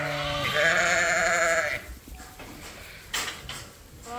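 Ewes and lambs bleating at a feeder in a sheep pen, one loud close wavering bleat followed by fainter scattered calls and clatter from the group.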